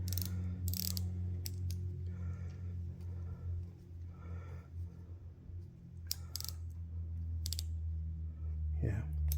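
Quiet metallic clicks and ratcheting from a tool tightening rocker arms on a 5.3 LS V8 being assembled for a 1993 Camaro swap, irregular and close, over a low hum with occasional speech.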